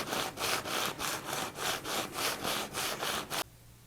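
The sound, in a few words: sanding block rubbing guitar fret ends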